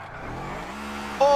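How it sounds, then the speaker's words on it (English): Koenigsegg Jesko drifting in a video game, its engine droning and then rising into a loud, sharp tire squeal near the end of a short burst. "Oh, it drifts pretty clean too, bro."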